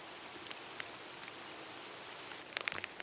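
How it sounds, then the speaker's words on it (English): Steady soft patter of rain at an autumn campsite in Algonquin Park, with scattered drips, quiet and even, a few sharper drops near the end. "I can hear the rain coming already again."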